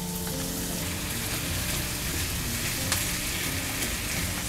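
Mashed boiled potatoes land in a hot pan over a low gas flame and fry with a dense, steady sizzle and crackle, close and continuous without any talk.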